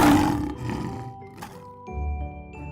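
A lion lets out a loud, rumbling roar up close, followed by lower growling grunts, over a light jingling background tune.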